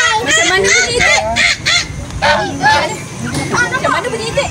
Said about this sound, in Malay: Macam mana bunyi itik?